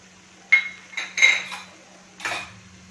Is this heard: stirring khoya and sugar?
yes